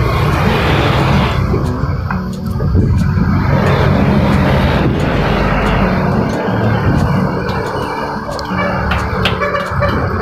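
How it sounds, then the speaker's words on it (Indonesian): A Mulyo intercity bus on the Yogyakarta to Purwokerto route pulls in close by, its loud engine rumbling steadily with heavy roadside traffic noise and no talking over it. "Bus Mulyo udah masuk"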